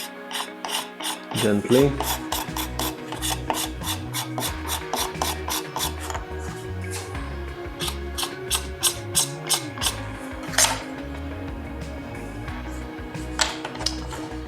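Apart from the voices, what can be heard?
scraping a guitar body cavity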